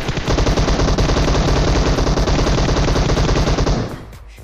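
Sustained rapid automatic gunfire in PUBG Mobile, a loud, close, unbroken stream of shots for nearly four seconds before cutting off abruptly into quiet.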